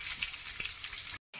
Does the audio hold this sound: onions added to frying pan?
yes